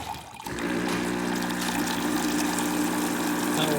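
After a brief click, a steady hissing rush of hot water streams continuously from a Saeco espresso machine tap, close and constant, with a faint mechanical hum beneath.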